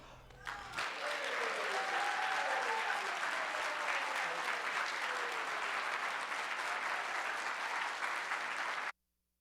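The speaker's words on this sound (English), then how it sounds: "Let's clap it up" An audience applauds at a launch event for about nine seconds. The dense, steady clapping is heard alone until it cuts off abruptly.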